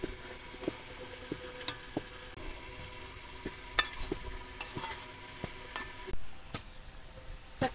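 Pointed gourd pieces dropped into a pot of boiling water, a soft steady bubbling bed broken by sharp clicks and knocks of utensils against the pot at irregular intervals, close and moderately quiet, with no talking.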